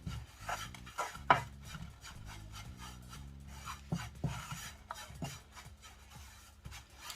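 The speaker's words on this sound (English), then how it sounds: "so I'm going to put a little, just put a little and fry." Garri being stirred and fried in a pan over gentle heat, giving steady scraping and rasping strokes with occasional sharper knocks, close and quiet, no voices.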